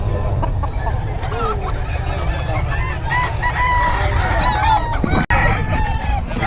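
Many chickens and roosters calling and crowing at once, a dense, loud barnyard chorus with constant clucking, with no clear single crow standing out.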